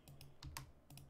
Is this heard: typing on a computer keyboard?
yes